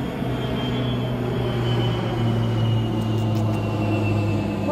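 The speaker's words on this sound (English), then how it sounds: "That was a big plane." A big airplane passes overhead outdoors, a continuous low rumbling roar that swells slightly in the middle, steady and fairly loud throughout with no voices.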